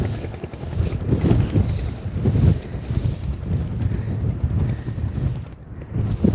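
Strong wind buffeting the microphone outdoors during shrimp fishing, a heavy low rumbling roar that gusts and swells continuously through the whole stretch.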